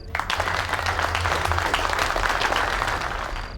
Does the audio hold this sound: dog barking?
no